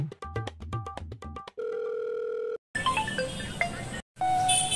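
A phone call goes out: quick dialing beeps, then a long steady ringback tone, followed by a click and the start of a recorded line, all loud and clear with no one talking.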